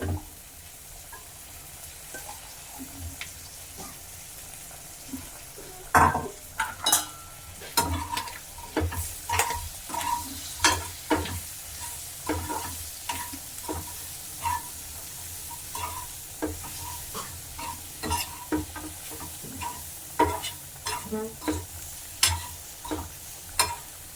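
Chopped onions with curry leaves sauté in an oil pan for a spicy chicken hearts fry, with a steady sizzle broken by a run of sharp spoon-on-pan scrapes and stirring clacks in an uneven rhythm.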